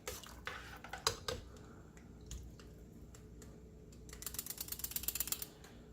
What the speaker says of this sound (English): now I'm going to give this a really quick stir